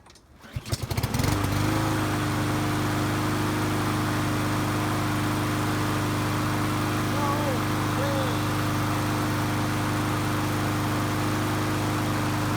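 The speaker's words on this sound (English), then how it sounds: "That sounds like a lawnmower." A small lawnmower engine with the choke on sputters to life after a pull and settles into a steady, loud, droning idle that runs on without stopping.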